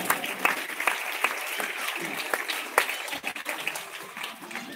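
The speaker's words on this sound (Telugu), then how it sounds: "ఒకసారి చప్పట్లు కొట్టండి ఒకసారి." An audience applauds at a 27th anniversary gathering, a dense, steady round of clapping with sharper individual claps standing out, fairly close and filling the whole stretch.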